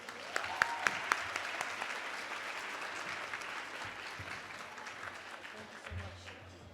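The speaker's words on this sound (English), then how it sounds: "focus your attention to the forward and give Dr. Sean Ginwright a round of applause" At a family-strengthening summit, an audience applauds to welcome a speaker, with a few loud, sharp claps up front settling into steady mid-level clapping that thins out, and a low rumble near the end.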